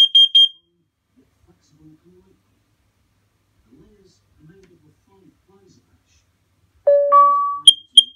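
A Nest Protect smoke and carbon monoxide detector sounding its test alarm: a loud pair of piercing beeps at the start, a quiet stretch with faint murmur, then a burst of alarm tones and more sharp beeps near the end.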